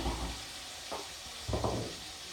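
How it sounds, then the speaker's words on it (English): A pot of sauce simmering on the stove gives a soft, steady hiss, broken by a couple of quick stirring scrapes nearby, with no talk. "This will actually take about 30 to 45 minutes to simmer and really gets like the essence of the sauce."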